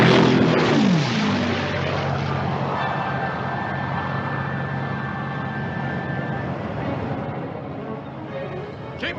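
Carrier aircraft being catapulted off a ship's flight deck: a loud, sustained propeller-engine roar fills the whole stretch, with a steady whine running through the middle.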